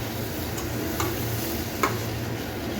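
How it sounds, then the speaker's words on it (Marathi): Masala gravy for a Raigad-style sode curry frying in a pan with oil risen to the top, giving a steady soft sizzle with a few faint spoon clinks as it is stirred. "आता आपण पुन्हा याला फ्राय करूया."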